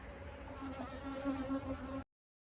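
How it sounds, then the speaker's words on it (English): Honeybees buzzing around a hive during a spring inspection on a mild April day, a steady close drone of many wings with a few louder passes near the listener, cutting off after two seconds. "the bees are busy."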